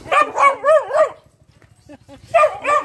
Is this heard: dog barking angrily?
yes